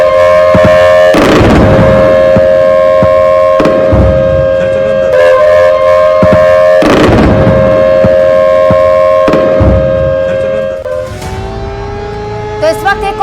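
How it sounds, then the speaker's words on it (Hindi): In Ferozepur under Pakistani drone attack, four heavy explosions boom roughly every three seconds over a continuous wailing air-raid siren, each blast loud and rumbling before the siren carries on alone. "और ये आवाज जो आप सुन रहे हैं ये धमाकों की आवाज है।"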